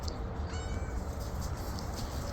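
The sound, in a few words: cat meowing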